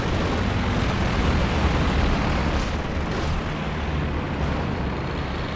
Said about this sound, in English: Is that the airburst barrage from Steiner's house